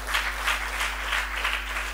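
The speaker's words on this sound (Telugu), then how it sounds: "చప్పట్లు కొట్టి దేవుని స్తుతి." A church congregation at a fasting prayer service claps in praise, giving a brief burst of rhythmic group clapping over a steady low hum.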